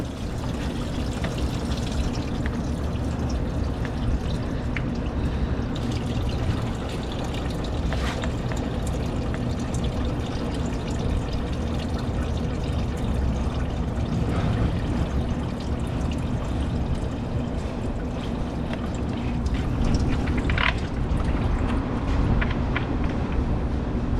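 Coolant drains from a Honda J30 3.0 V6 radiator into a catch can, a steady pouring and trickling wash of liquid that runs continuously and close by.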